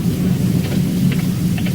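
Steady rain with a low rumble of thunder on a New Orleans street, a constant wash of noise with faint drips over the top, close and fairly loud, no talking.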